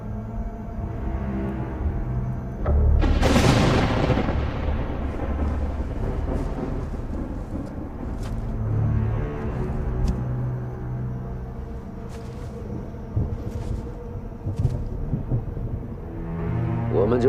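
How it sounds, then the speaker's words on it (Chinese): Thunder rolls through a storm: a loud crack about three seconds in swells into a long, deep rumble that slowly fades, with steady low tones running underneath. "我们就顺着雷声的方向去找。"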